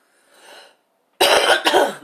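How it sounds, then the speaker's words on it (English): A soft breath, a short pause, then two sharp, loud coughs in quick succession, close to the listener. "And right now I'm coughing."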